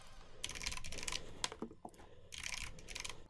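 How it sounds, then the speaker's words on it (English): A hostname is typed on a computer keyboard in two quick bursts of light key clicks, with a short pause and a few louder single taps between them, quiet and close. "In the hostname field, we'll type marion.com"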